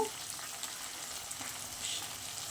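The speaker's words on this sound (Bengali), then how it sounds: "ব্যাস এইবার এটাকে খুব ভালো করে কষিয়ে নেবো" Spices with ginger paste and turmeric powder fry in a pan, giving a soft, even, continuous sizzle that stays fairly faint throughout.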